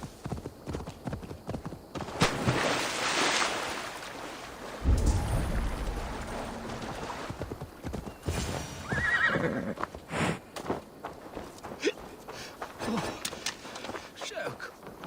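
Horse hooves clip-clop on the ground in the Assassin's Creed Valhalla video game, a steady plodding rhythm under in-game noise, with horse whinnies, faint rain and thunder around it and a voice speaking briefly.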